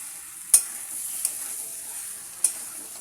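Mutton and fried potatoes sizzle steadily in a pan, close up, with three sharp clinks of the spoon against the pan as it is stirred.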